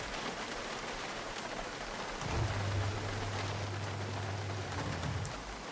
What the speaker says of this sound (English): that rain came in quick and sudden.